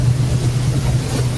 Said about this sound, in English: you can hear the train making clickety click sounds